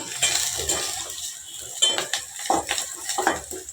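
Chopped tomatoes and onions fry in a pan, a soft sizzle broken by repeated scraping and clinking of a spoon stirring against the metal.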